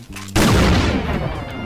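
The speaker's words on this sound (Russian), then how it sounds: "Ой, такой выстрел, звук классный." A single loud gunshot from a weapon in Garry's Mod, a sharp blast with a long rumbling decay, following brief game sounds.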